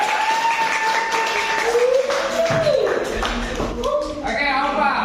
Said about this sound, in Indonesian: Kasih tepuk tangan untuk Aufa.